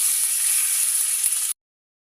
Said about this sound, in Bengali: চিকেনগুলো তুলে নিয়েছি পরেগুলো ভেজে নিব